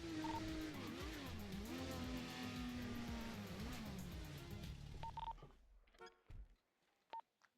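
A 4x4 vehicle in a video game revs and drives along, engine pitch rising and falling with shifts and tire noise, then the engine cuts out, leaving a few short beeps and clicks.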